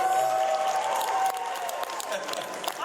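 Convention panel audience at InvaderCON 2026 clapping, a steady wash of applause from a room full of fans that holds for a few seconds with a faint voice or whistle over it.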